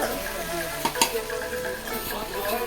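Fried rice is stir-fried in a pan, with a steady, fairly quiet sizzle close up and a few sharp scraping clinks of the spatula.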